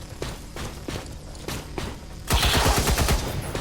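Gunfire in the video game XCOM 2: a few spaced shots early, then a loud burst of rapid automatic fire rattling out for over a second.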